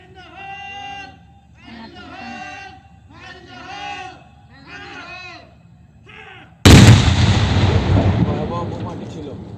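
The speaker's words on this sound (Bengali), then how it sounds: "এই যে বোমা, এই যে মাত্র ফুটলো" A bomb detonates outdoors with a sudden loud blast and a long rumbling tail, after a voice speaks over the background.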